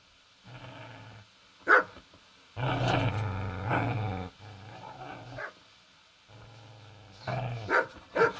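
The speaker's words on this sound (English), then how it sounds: "Get away, you mutt!" A dog in the medieval game Kingdom Come Deliverance growls low and barks in several close, loud bursts separated by short pauses.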